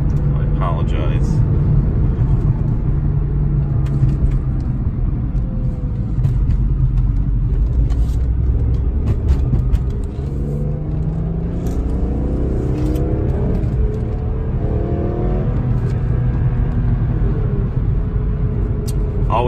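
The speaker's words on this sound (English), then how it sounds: "Always fun to really give it some throttle, accelerate the car through the turn, especially in an E46 M3." 2002 BMW E46 M3 engine droning and accelerating through a turn, a steady loud cabin rumble with rising revs near the end, while someone talks over it.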